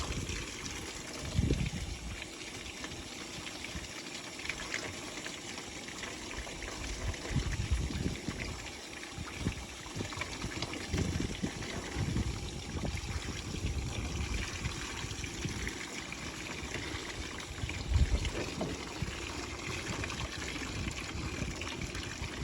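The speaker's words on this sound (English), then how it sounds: "You want to rinse it until the water runs clear" Tap water runs and splashes steadily while a plucked meat chicken is rinsed inside its cavity during home butchering. The flow stays close and constant, with occasional thuds and handling bumps and no voices.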